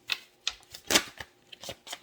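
Tarot cards are shuffled loosely by hand, giving soft, close riffling and tapping bursts in an uneven rhythm of about eight quick flurries, quiet and with no voice over them.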